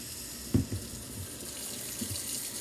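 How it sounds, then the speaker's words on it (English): A kitchen tap runs steadily for handwashing before baking, a close, continuous hiss of water into a sink with a brief splash early on and no talking. "we always have to wash our hands for at least 30 seconds with soap and warm water"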